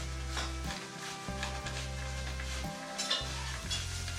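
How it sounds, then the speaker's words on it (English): Onions stirred in a hot pan on a homestead kitchen stove, a steady close sizzle broken by a few scraping stirs, with a low continuous hum underneath and no talking. "You want to stir those onions?"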